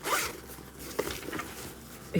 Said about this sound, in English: The zipper works well.